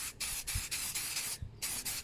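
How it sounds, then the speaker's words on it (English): Short hissing sprays alternate with rubbing wipe strokes in a steady rhythm, close up, with no voices. "What I like to do is spray it on like that, and then you give it a wipe"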